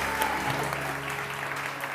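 Studio audience of a Pakistani TV morning show applauds, an even, continuous wash of clapping with a steady tonal hum from music or equipment beneath it.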